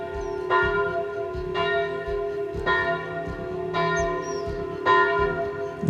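Church bells ring over the Loire at Saint-Dyé-sur-Loire at dusk, with steady, evenly spaced strikes about once a second and a sustained ringing hum beneath them. Faint bird calls come through in the background.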